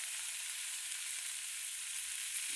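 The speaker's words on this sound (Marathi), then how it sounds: "चांगलं तेलात फ्राय होऊ द्या बघा" Spices and chilli powder frying in oil, a steady soft hiss of sizzling throughout with no stirring strokes or talk.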